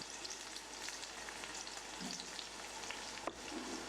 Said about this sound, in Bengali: টমেটোগুলো যখন গলে যাবে তখন ক্যাপসিকামগুলো দিয়ে দিব। এবার এদেরকে প্রায় 10 মিনিট ধরে ভাজবো।